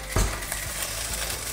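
Food pan-fries in a pan, a soft continuous sizzle close by, with a brief low knock of utensil against pan near the start and a few faint clinks.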